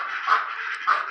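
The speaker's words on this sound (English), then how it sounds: "We got 13 new ducks today." Ducks on a farm, including mallards and Indian runners, give two short nasal quacks close to the microphone, one quickly after the other, against quiet surroundings.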